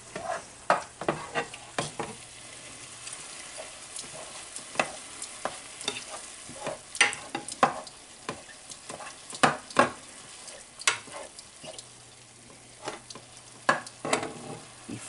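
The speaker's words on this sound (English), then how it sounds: "All right, I'm browning the beef." Ground beef browning in a large 10-quart pot, with crackling sizzle and frequent short scraping stirs throughout, close and moderately loud, no talking.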